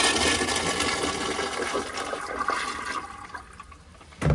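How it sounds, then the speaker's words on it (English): A home toilet flushes weakly with a gurgling rush of water that fades over a few seconds, then a sharp knock or clunk near the end. "That was not a very powerful flush."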